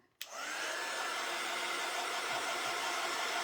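A hair dryer blows steadily on a craft paint pen to dry it, switching on abruptly and then holding a loud, continuous broadband whoosh with no talk.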